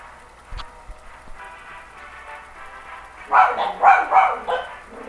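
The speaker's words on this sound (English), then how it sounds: "Apologies for the dogs." Dogs bark several times in a quick cluster in the background after a quiet stretch with a faint thump.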